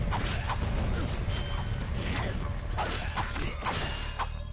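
Ratchet swinging his wrench weapon in the Ratchet and Clank Trilogy HD video game: repeated metallic whooshing swings and clanks over busy game background sound, fairly loud and steady throughout.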